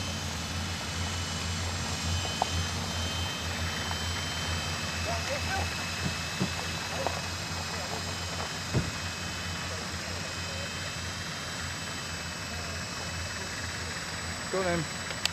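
An RC model helicopter flies overhead outdoors, producing a continuous steady engine and rotor drone that holds level throughout. Faint voices can be heard now and then beneath it.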